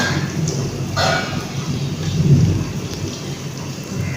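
Thunder rumbles from storm clouds in steady, low, continuous waves alongside rain, with a few brief louder swells, heard at moderate distance with no talking.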